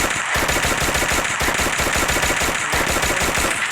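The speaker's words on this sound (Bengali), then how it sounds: "কত গুলি করছি, গুলি লাগছে।" Rapid automatic gunfire in an online shooter game, a loud continuous burst of evenly spaced shots that briefly breaks off near the start and again later.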